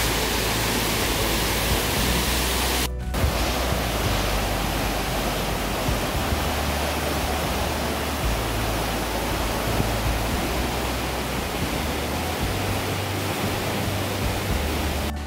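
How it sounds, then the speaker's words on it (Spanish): The Cascada de la Burbuja in the Amecameca forest pours continuously, a loud, full rush of falling water that stays steady throughout with no voices. "Pero chéquense qué hermosa está la cascada de la burbuja"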